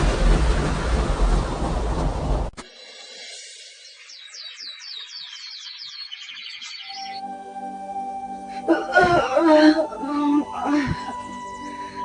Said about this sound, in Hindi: हे भगवान, यह तो बहुत जोर की बारिश आ गई।